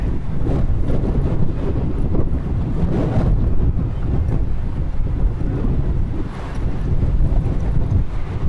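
Steady roaring wind buffeting the microphone, loud and constant throughout with low rumbling gusts and no voices.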